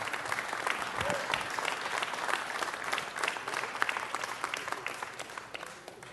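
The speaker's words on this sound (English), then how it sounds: "Let's give them another round of applause." An audience at a city council meeting applauds steadily, dense clapping from a crowd filling the room throughout at fairly even loudness.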